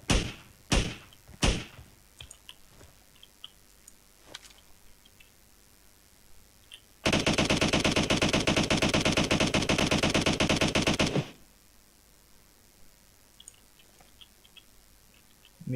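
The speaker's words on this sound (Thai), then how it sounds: "มึงยิงใครวะ" Gunfire in the battle royale shooter PUBG: a few sharp single shots early, then a sustained four-second burst of rapid automatic fire, followed by quieter scattered thuds.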